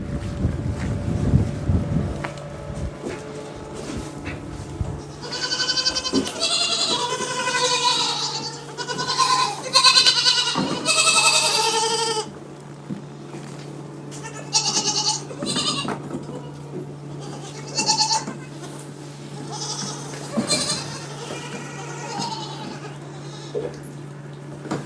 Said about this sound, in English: Okay, let's go see some baby goats instead